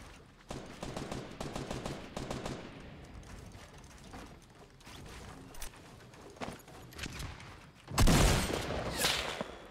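Fortnite gunfire with rapid clicking and mechanical rattles, a run of quick shots early on, then a loud sharp sniper rifle blast near the end, close and prominent.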